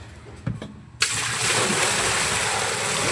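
Water is poured in a sudden rush that starts abruptly after a couple of soft knocks, then continues as a steady, loud splashing gush.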